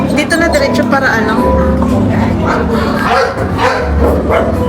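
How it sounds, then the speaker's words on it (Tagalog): A farm dog barking back at another dog across the way, with barks and yips mixed under a person talking throughout. "kung naririnig ninyo si Bunso ay gumaganti ng tahol dahil meron din palang dogo doon sa kabilang side"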